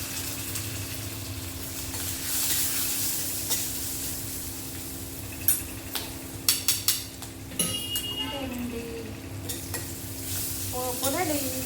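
A tempering of cumin, turmeric and a couple of green chillies fries in a pan, with a soft steady sizzle under scattered sharp clinks and scrapes of a spoon against the metal.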